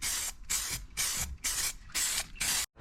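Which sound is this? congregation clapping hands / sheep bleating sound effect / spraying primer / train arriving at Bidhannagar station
spraying primer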